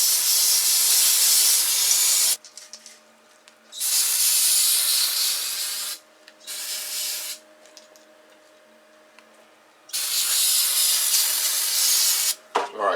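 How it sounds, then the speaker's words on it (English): Carb cleaner blasts onto dirty, oily engine parts from a 2002 Jeep Wrangler TJ engine swap in four loud hissing bursts: two long, one brief and one long, separated by quiet gaps. "I'm going to start with some carb cleaner, and I just want to get the dirty oil off"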